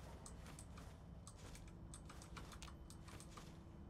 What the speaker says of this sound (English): Loud ass mechanical keyboard.